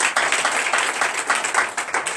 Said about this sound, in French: donnez l'acclamation à Christ